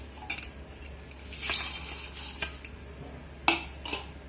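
Jackfruit chips dropped into a bowl and tossed, giving a few quick crisp rattles and clinks with a louder rustling burst midway and another sharp clatter later, close and fairly quiet.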